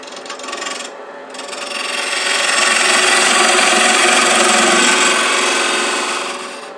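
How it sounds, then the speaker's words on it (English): A spindle gouge cuts a gradual slope on a spinning wooden rook chess-piece box on a lathe, a steady close rasping scrape that swells louder and holds for several seconds before easing off. "I'm going to just take it down. Just a very gradual slope. Again, using a spindle gouge."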